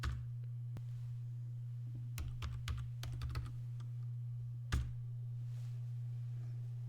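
Sparse keyboard typing at a Debian 10 login screen: a single click, then a quick burst of keystrokes, and one more tap later, all faint over a steady low electrical hum.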